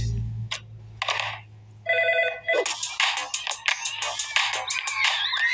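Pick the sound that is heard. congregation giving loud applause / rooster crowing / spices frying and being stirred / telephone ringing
telephone ringing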